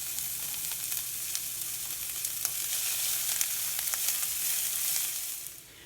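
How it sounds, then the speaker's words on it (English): One small diced onion frying in about a tablespoon and a half of olive oil, a dense, even hiss of close sizzling with faint stirring ticks that tapers off at the end. "I have about a tablespoon and a half of olive oil. I'm going to add 1 small diced onion and let that start caramelizing."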